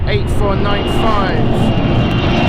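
A British Airways CityFlyer Embraer E190 jet at London City Airport in the evening gives a loud, steady engine roar with rising and falling tonal whines, and a voice talks over it intermittently.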